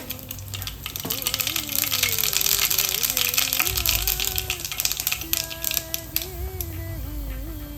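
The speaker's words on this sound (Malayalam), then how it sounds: "നമ്മൾ എണ്ണ നല്ല ചൂടായി അതിനകത്തോട്ട് ഞാൻ ഒരു ടീസ്പൂൺ കടുകിട്ട് കൊടുത്തേ" A teaspoon of mustard seeds pops in well-heated oil with a continuous crackling sizzle, steady and close, while someone talks over it.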